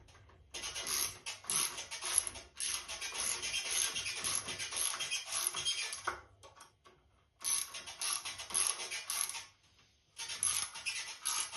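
A ratchet clicks rapidly in several bursts while bolts are tightened on an industrial sewing machine table, with short pauses between runs of close, crisp clicking.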